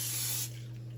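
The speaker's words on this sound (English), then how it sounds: "I'm going to spray the bottom." Cooking spray hisses onto the bottom of a baking sheet in one short, close, loud burst that cuts off after half a second, with no talking.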